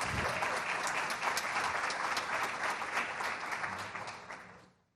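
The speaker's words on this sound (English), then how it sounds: "please join me in giving a big round of applause to Laura and Kerwin." Sustained audience applause at a forum event, a dense wash of clapping at steady strength that fades out toward the end, with no talk over it.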